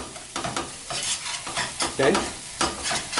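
A spoon stirs flour into milk in a pot, giving soft, irregular swishing strokes with a few louder scrapes over a faint simmering background.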